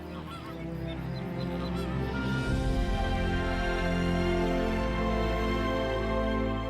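A breeding colony of greater flamingos honks steadily, with many overlapping goose-like calls forming a dense, continuous chorus at close range.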